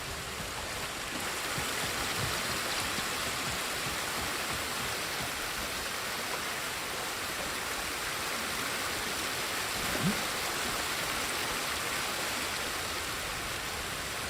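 Steady rushing waterfall in the video game Ghost of Tsushima: Director's Cut, a dense, even roar of falling water that holds throughout with no voices over it.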